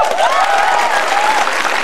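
Loud, dense audience applause at a stand-up comedy night, a close continuous wash of clapping with cheering voices mixed in.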